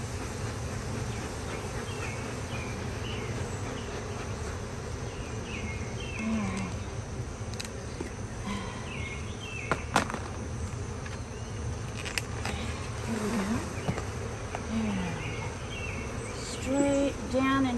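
Honeybees buzzing around a hive as they are installed, a dense steady drone with occasional louder passes of individual bees close by, with birds calling faintly in the background.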